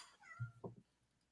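A single short cat meow, faint and somewhat distant, heard briefly in a quiet room with no talking over it.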